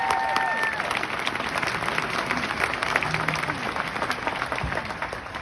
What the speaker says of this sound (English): let's clap it up for your 2022 St. John Bosco High School graduating class